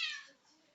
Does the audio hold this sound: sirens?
no